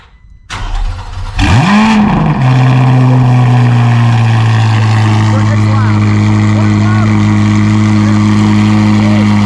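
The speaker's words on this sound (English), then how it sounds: "let's fire up the car" A supercar engine cranks and fires up, then settles into a loud, deep, steady idle that holds close and sustained after a sharp rise on startup.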